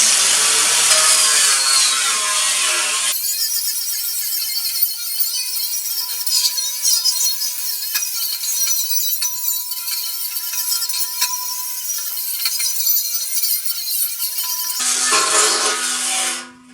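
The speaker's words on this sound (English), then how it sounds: "now we're going to go ahead and use the buffing wheel" A buffing wheel scours rust off a tractor rim, giving loud, harsh abrasive grinding at the start and again near the end, with a steady motor whine running in between.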